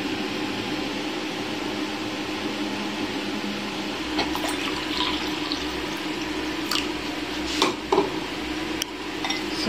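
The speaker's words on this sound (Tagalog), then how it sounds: "lalagyan natin guys ng cold water. Same amount of water din." Cold water pours into a container while gelatin is being made, a continuous close splashing flow with a few sharper drips and light clinks toward the end.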